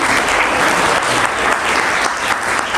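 An audience at an academic conference gives loud, enthusiastic applause after an award announcement, close and dense clapping that stays strong throughout the brief clip.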